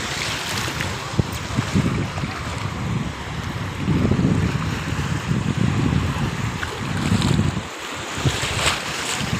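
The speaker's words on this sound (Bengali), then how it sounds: "দেখেন কি সুন্দর ঢেউগুলো আসতেছে।" Waves roll in at high tide, a broad rumbling wash of surf that surges and recedes in repeated swells, blended with steady wind buffeting the microphone.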